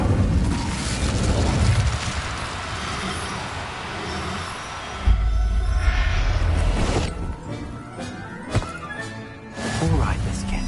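Casting of an Incendio fire spell in a Harry Potter video game: a deep booming whoosh of flame erupts midway after a dense rumbling passage, followed by scattered crackles and clatters as a voice speaks.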